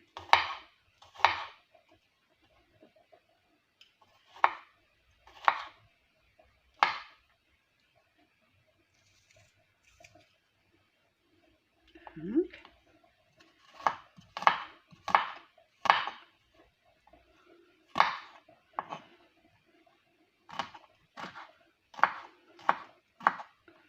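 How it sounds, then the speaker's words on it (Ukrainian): A knife cuts garlic into thin slices on a board, giving sharp close taps in uneven bursts separated by quiet pauses. "Далі я наріжу отакими пластинками часник."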